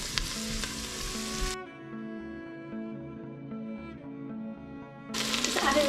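Onions and garlic fry in butter in a pan with a steady close sizzle, cut off abruptly partway through and then resuming, with no talk over it.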